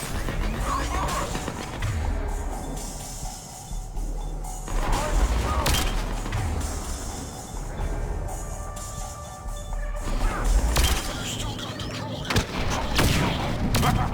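Gunfire and crashing impacts from a firefight in the video game Mass Effect 3, dense and continuous across the scene, with bursts and booms under game voices calling out orders.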